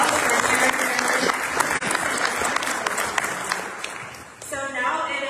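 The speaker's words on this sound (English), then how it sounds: "Let's give them a round of applause for sharing their information." An audience at a community academy event applauds loudly and continuously, a thick wash of clapping that tapers slightly near the end.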